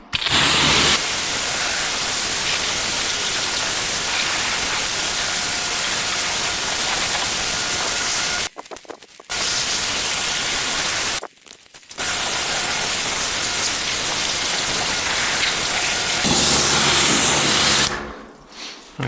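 A pressure washer spray rinses a white Hyundai i20, a loud, close, continuous hiss broken by two brief pauses and then a change in the spray near the end.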